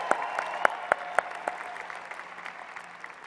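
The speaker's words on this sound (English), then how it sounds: "let's give them a round of applause" An audience at a University of Oklahoma College of Medicine commencement claps for the graduating class. The applause opens with a few sharp, loud claps and then settles into an even patter of moderate, roomy clapping.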